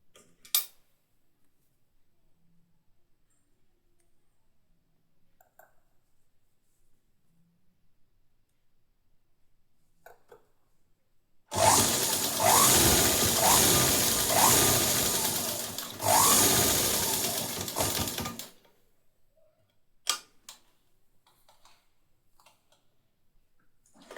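A sewing machine stitches along a folded cloth edge in one loud rattling run of about seven seconds, set between long near-silent pauses broken by faint ticks and clicks.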